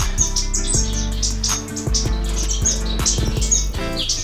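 Orange-cheeked waxbills in cages in an indoor bird room chirp continuously, with many high, thin, overlapping calls close by and fairly loud, over a low background hum.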